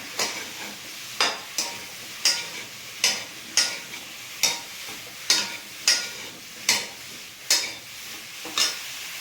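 A spoon or spatula scrapes and stirs through food in a pan, giving a steady series of sharp, regular strokes about once a second with a soft sizzle between them, close by and with no voices.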